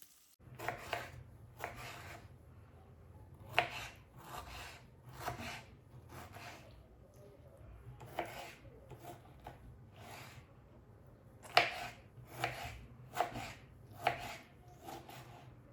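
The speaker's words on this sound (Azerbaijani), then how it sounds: "Pomidorların qabığını soyub doğrayıram." A knife chops peeled tomatoes on a board in quick bursts of soft, close taps, spread unevenly through a quiet kitchen with a low background hum.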